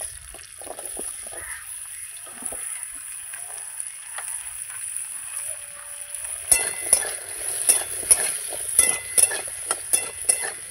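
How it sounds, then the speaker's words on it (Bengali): Gathi kochu taro pieces frying in oil, a soft sizzle that grows louder after about six seconds with clattering stirs and pops, close by, without speech. "এবার কিন্তু এই তেলেই আমি গাঠি কচুগুলো ভেজে নেব।"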